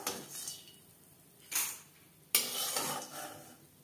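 Fried bori, Bengali lentil dumplings, are scraped and tipped from a pan into a bowl in a kitchen, giving two sharp metallic clatters with light scraping between them, close and alone.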